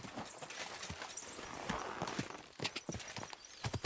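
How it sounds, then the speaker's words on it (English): Horse hooves clip-clopping with a short whinny from a mount in the medieval role-playing game Kingdom Come: Deliverance II, steady close footfalls with sharp transient knocks over ambient game sound. "Come on, horsey."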